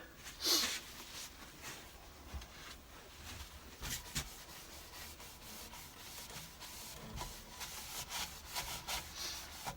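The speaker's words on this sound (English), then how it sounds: "I'm just going to use a cloth and a bit of elbow grease, and hopefully get the shine back on this piece." Cloth rubbed by hand over a wooden yarn bowl to polish it, a soft, steady scrubbing with faint rhythmic strokes and a few brief louder knocks, close and alone without talk.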